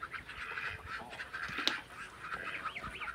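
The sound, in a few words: noisy geese honking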